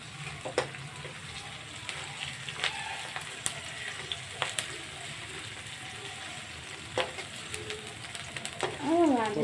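Onions frying in a pan for homemade egg chowmein, a steady sizzle with scattered sharp clicks and scrapes of stirring, close and moderately loud.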